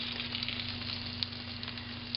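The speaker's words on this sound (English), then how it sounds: "take each pork chop and place them in the pan" Pork chops sizzling in a frying pan, a steady faint crackling sizzle over a constant low hum, with a few small pops.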